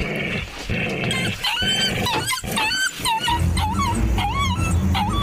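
A dog named Brownie growls angrily at night, close and loud, its low rumbling mixed with high whimpers and yips that rise and fall across the stretch.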